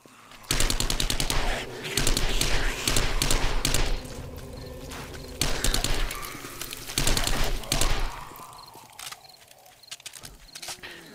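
Submachine gun bursts in the zombie survival game 7 Days to Die rattle loud and close in several long volleys, with brief pauses between them and a growling creature heard faintly as the firing tails off.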